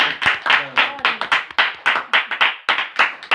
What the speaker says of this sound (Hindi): एक बार जोरदार ताली। जोरदार ताली बजानी,